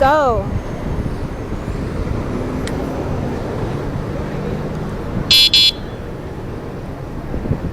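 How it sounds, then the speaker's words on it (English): Street traffic with cars rolling past a bike lane, a continuous moderate road rumble, with a brief horn-like tone in the middle and some voices in the background. "there are a lot of cars going by"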